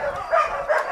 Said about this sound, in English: with these carnivorous animals barking at us as soon as we made our way inside the shelter